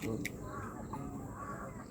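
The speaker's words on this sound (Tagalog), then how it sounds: "Ay, uwak." A single crow caws once near the start, clear but not close, over a murmur of outdoor background noise at Lambingan Hills.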